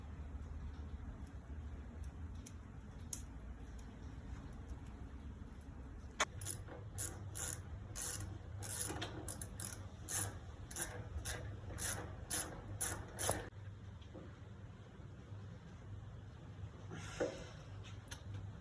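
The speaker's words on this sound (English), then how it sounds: "We're going to install it in the caliper and bolt this caliper onto the front end." A brake caliper being bolted onto the front end of a Harley motorcycle with a ratchet, quiet workshop ambience broken by bursts of rapid ratchet clicking in the middle section, then a clink near the end.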